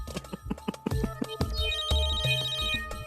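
A telephone ringtone plays loud and close in a short melodic tune of rapid rising and falling notes, repeating without any talk over it.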